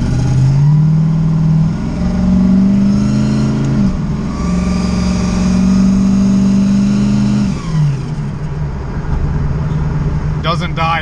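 A Ford Mustang drag car with an automatic transmission is put into first gear, and its engine drones loudly and steadily, rising in pitch in two long pulls with a brief dip between them.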